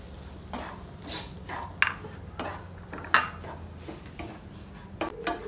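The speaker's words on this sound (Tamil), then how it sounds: "ரவை நல்லா வறுத்து எடுத்தாச்சு" Semolina roasting in a pan over a low flame is stirred with a metal spoon, giving soft repeated scraping strokes and a few clinks against the pan, quiet and close with no talk.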